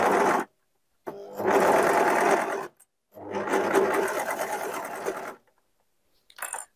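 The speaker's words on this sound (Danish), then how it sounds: "Og jeg syr her den ene skuldersøm." A two-needle overlock machine with a looper stitches an elastic shoulder seam on jersey fabric. It runs in three bursts, two long steady whirring runs separated by pauses and a short final burst, close and loud with no talk.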